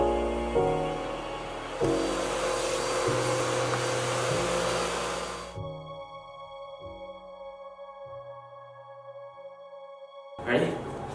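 A vacuum cleaner runs in a shop being prepared for new vinyl flooring, a loud steady roar for about five seconds before cutting off, followed by a quieter hum and a short thump at the end.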